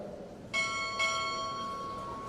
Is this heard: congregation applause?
no